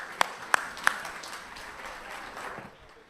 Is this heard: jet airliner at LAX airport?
no